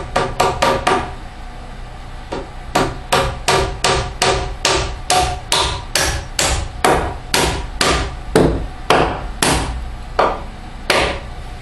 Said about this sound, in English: You notice I use a hammer.